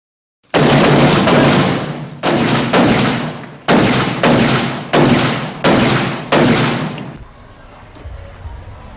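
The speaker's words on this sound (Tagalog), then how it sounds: "At biglang may narinig na pagputok ng baril." Gunshot effects in a Filipino audio drama: a rapid volley of about eight loud, sharp bangs in quick clusters, each ringing out briefly before the next, then fading into a quiet room tone.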